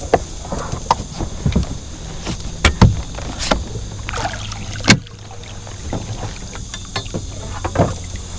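Oars work a small Pelican Bass Raider boat on open water in the evening, making close, irregular wooden knocks and splashy strokes with brief pauses between pulls.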